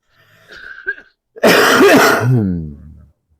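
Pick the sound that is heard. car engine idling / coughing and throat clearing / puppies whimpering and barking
coughing and throat clearing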